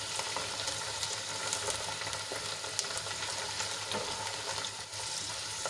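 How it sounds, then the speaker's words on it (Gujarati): Gunda (glue berries) being sautéed in a pan: a continuous, soft sizzle of oil with scattered small crackles and pops, fairly quiet and steady throughout. "આ રીતે ગુંદાને ફ્રાય કરવાથી ગુંદાની બધી ચિકાસ છે એ બધી દૂર થઈ જશે."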